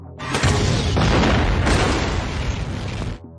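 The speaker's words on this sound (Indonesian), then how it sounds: "Melihat Hurley bisa saja terkena ledakan, Jack dengan sigap bangkit lalu menarik Charlie untuk tiarap." Loud explosion from a scene in the TV series about plane-crash survivors stranded on an island, a sustained boom lasting about three seconds with no talking.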